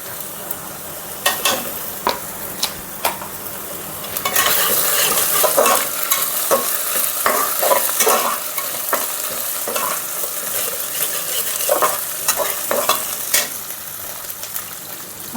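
Onions and a small spoonful of ginger garlic paste frying in a pan for an Andhra-style ridge gourd mutton curry, a steady close sizzle broken by repeated stirring scrapes, louder after the first few seconds, with no talking.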